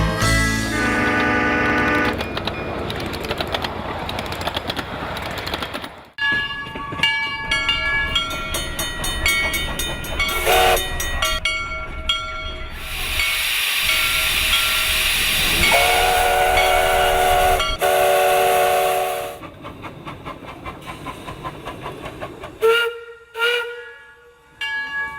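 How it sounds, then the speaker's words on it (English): A Shay steam locomotive at the Hesston Steam Museum in LaPorte, Indiana chugs loudly nearby, and its steam whistle sounds in several long, strong blasts, some clipped short, amid hissing steam and rail clatter. "Hesston's head engineer, Ted Rita, is in the cab of his favorite locomotive, the Shay."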